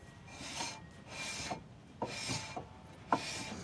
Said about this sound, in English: Right now the drums are too tight because when I spin it, it sounds like this